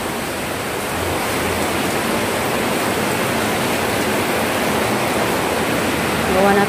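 Water leaking heavily indoors, pouring and dripping in a steady, dense rush that stays loud and unbroken throughout.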